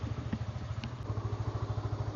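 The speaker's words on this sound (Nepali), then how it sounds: "मान्छेहरूले चाहिँ अघि बाइक स्टार्ट गरिसक्यो।" Several motorcycles idle together on a dusty off-road stop in Dolakha, a steady low rumbling pulse running throughout with occasional clanks and thuds.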